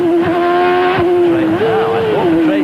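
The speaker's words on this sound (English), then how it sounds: "Listen to Schumacher work the shifter around this circuit." A 1992 Formula 1 car driven by Michael Schumacher at the Australian Grand Prix, its engine note rising and dropping sharply through quick gear shifts, loud and close.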